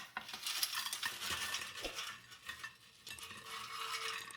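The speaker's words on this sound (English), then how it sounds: "Let's release the basket and put it on a plate" An air fryer basket is released and crispy frozen curly fries are tipped onto a plate, a run of metallic clatter, scraping and light rustling at close range, with a short quieter gap midway.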